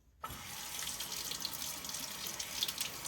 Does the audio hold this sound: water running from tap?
yes